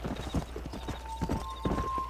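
Hooves of a horse galloping in a race in the video game Red Dead Redemption, a steady rapid clip-clop rhythm that stays up close over a low background hum and a thin steady tone.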